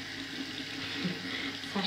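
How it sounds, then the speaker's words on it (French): A bathroom tap left running to let overly cold water warm up gives a steady broadband rush of flowing water, close and continuous throughout, with a faint voice barely present underneath. "je laisse couler un peu l'eau parce qu'elle est trop froide."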